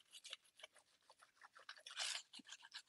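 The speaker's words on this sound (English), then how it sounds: "And we're going to rub it down just like that." Gilding foil, white side down, is rubbed down by hand over glue to transfer gold, giving a steady close series of short dry scraping strokes with one denser burst of rubbing partway through.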